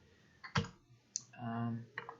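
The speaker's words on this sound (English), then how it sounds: "I don't know if you can hear my keyboard. It's very loud." Loud, clacky keystrokes tapped unevenly on a nearby computer keyboard, with a soft voice murmuring beneath the clicks.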